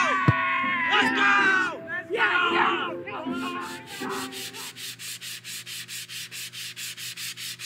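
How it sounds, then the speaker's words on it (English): Sandpaper worked over a surface, starting under excited shouting and cheering, then settling into a steady run of rhythmic rubbing strokes heard alone and close. "You just finished sanding it down"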